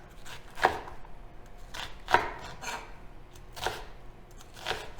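A kitchen knife chops vegetables for roasted vegetable baked penne into 1-inch pieces, five distinct close cuts on a board about a second apart, quiet with no talking.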